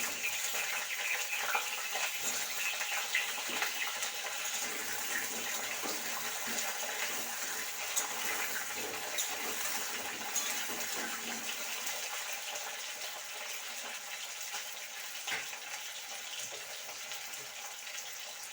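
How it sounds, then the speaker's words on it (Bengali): Sliced potatoes hiss and sizzle steadily in hot oil in a wok, a continuous bright frying crackle with no voices over it. "কড়াইয়ে তেলটা গরম হয়ে এসেছে, এবার আমি কেটে রাখা আলুগুলো ছেড়ে দেবো।"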